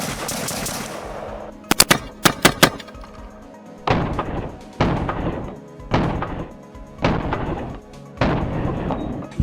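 Gunfire through a V3 meme flash hider, heard as a quick cluster of sharp shots followed by five loud, evenly spaced booming reports with long echoing tails, close-up outdoors.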